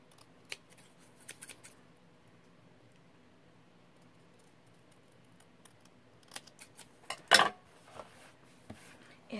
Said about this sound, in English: I know I didn't cut this one all the way out, so you'll have to watch me cut this one.